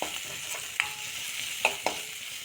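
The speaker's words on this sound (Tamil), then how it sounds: "நல்லா வெங்காயம் வதங்கியாச்சு." Onions sauté in a pan with a soft continuous sizzle, broken by a few sharp scraping stir strokes from a utensil against the pan.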